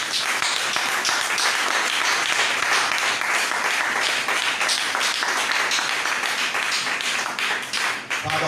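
A church congregation claps loudly and continuously in praise, a dense, even roar of many hands close by that holds steady throughout and thins slightly at the very end.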